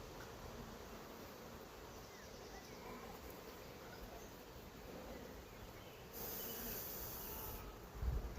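Honeybees buzz around an open hive during a week-two inspection, a faint, steady drone of many insects with a brighter rise in the last seconds and no talk.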